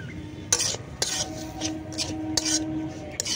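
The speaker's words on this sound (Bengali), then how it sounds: "তেলের মধ্যে সুজিটা দিয়ে একটু ভেজে নেব।" Semolina stirred and fried in oil in a pan over low heat, with a spoon scraping and clinking against the vessel in several separate strokes over a soft steady sizzle.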